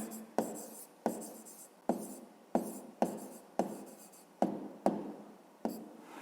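A pen writes on paper close up in a quiet room, giving a series of crisp scratchy strokes in an even, repeating rhythm of about nine short bursts, each sharp at the start and then tailing off.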